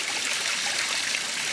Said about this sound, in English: there's a little tiny waterfall here